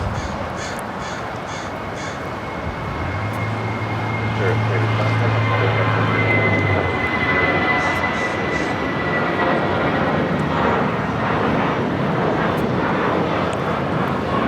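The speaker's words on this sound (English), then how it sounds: "This takeoff is Spirit Airlines 387 taking off to New Orleans on the A320." A Spirit Airlines Airbus A320 takes off from runway 25 Right at LAX, its engine roar building to a steady, loud wash that fills the scene, with crows cawing nearby.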